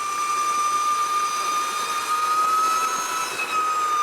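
An Energica Eva 107 electric motorcycle accelerates at wide open throttle on Palomares Road, a steady high whine with a thin tonal line over broad wind rush, continuous and loud throughout.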